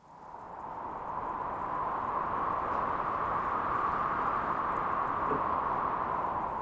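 Synthesizer patch imitating wind, a steady hissing rush centred in a breathy midrange band that swells in over the first seconds and then holds evenly, moderately loud and alone.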